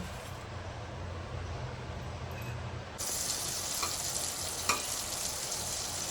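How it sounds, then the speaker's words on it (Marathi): Butter melts and sizzles in a hot pan for mushroom fried rice, a steady close frying hiss that turns brighter and louder partway through, with one small clink. "आता आपलं बटर मस्तपैकी मेल्ट झालेलं आहे."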